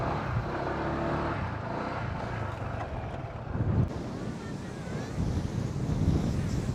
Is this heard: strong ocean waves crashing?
yes